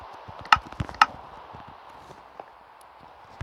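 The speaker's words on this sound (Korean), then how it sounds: "이거는 발, 발소리야, 발소리." Footsteps in Minecraft: a few soft, irregular steps with two sharper thuds near the start and quieter ones trailing off, close and alone.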